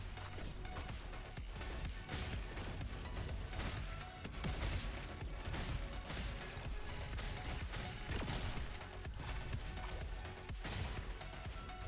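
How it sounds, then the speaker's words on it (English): A shotgun firing explosive rounds in an indie video game, a sustained barrage of sharp blasts and crashes in rapid succession, loud and dense over a busy game soundtrack, with no talk. "Shotgun. That does explosions."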